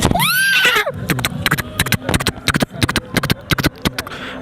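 A human voice imitates horses neighing during a climactic horse race fight from the film Magadheera: a loud, close whinny with falling pitch sweeps opens, followed by rapid rhythmic percussive clip-clop bursts imitating galloping hooves.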